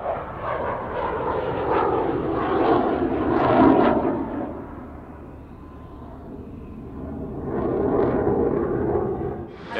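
A military jet flies at the Farnborough International Air Show 2016, its loud engine roaring and rumbling continuously. The sound swells and fades as it passes, then builds again, with no talking.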